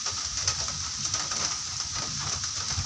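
Steady rain falling outdoors near a pig pen, a continuous hiss of drops with a faint low rumble underneath and no talking.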